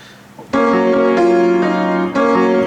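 A piano sounds the first half of a chord progression as two sustained chords, each struck firmly and left ringing, loud and close with no talk.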